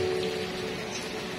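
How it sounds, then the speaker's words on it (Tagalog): Steady rain pours onto a rooftop on a rainy morning, a dense continuous hiss without breaks, moderately loud and even throughout. "Medyo matatagalan pa ang ulan na ito."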